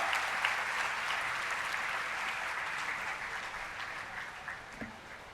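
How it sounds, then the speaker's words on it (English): An audience at MIT greets the top-ranked UPSC exam candidates with sustained, even applause that holds for several seconds, then thins slightly toward the end. "Please welcome with a big round of applause, All India Rank 1, Ms. Ira Singhal"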